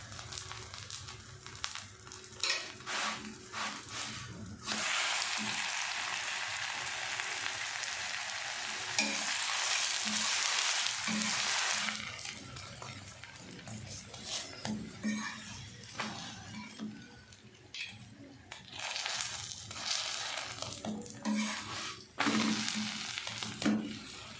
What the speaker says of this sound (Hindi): अब इसके ऊपर हम घी लगा देते हैं, क्योंकि घी से ही पराठे बहुत मज़े के बनते हैं।